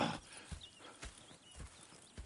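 Horses clop slowly at a walking pace in a Western video game, with a few soft, spaced hoof strikes over quiet ambience.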